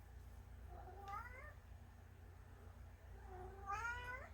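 A house cat gives two drawn-out, rising-and-falling meows a few seconds apart. They are clear and close over a low indoor hum, with no talk.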